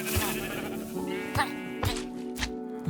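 Minecraft sheep bleat in a series of close, clear calls, several overlapping in under three seconds, with no voices over them.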